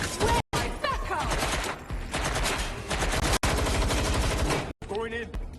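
Gunfire in Watch Dogs: Legion on a London street, rapid bursts of shots mixed with shouting voices, loud and close, with brief sudden silent cuts.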